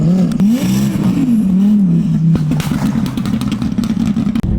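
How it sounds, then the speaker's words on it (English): A built Kawasaki ZX10R street bike revs hard with its rear wheel spinning on ice, the engine pitch climbing and wavering in loud, close, continuous bursts with clattering mechanical noise. "It makes like tons of cool noises, but the wheel speed is so fast it like barely goes anywhere on the ice"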